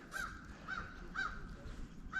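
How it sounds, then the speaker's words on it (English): Crows caw by the water on a winter crappie fishing outing, four harsh calls spaced roughly half a second apart, moderately distant and fairly faint over a soft outdoor background. "You can hear some crows"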